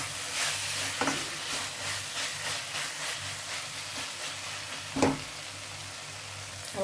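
Spices for tempering spinach dal sizzle and hiss in hot oil with a steady crackle, flaring into a few louder spits, close up with no talking.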